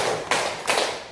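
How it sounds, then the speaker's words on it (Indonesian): A group of people clap in unison, two loud crisp bursts roughly a third of a second apart, sounding close and filling the room. "tepuk 4"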